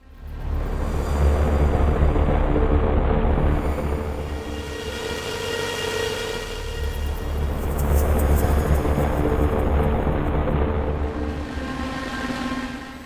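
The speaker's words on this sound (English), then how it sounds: "The Quake soundtrack is known for its cacophonous drones" Dark, bassy droning music from the Quake video game soundtrack: heavy sustained low drones layered with metallic, ringing overtones that swell and fade in long waves, with no voices.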